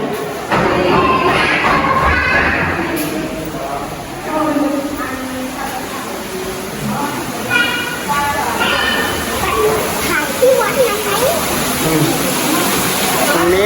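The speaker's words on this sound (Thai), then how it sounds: "เป็นน้ำตกลำธารไหลลงมาจากภูเขา" A mountain stream and waterfall at Ban Sing Tham in Chiang Kham, Phayao, rush steadily in the background while people talk over it.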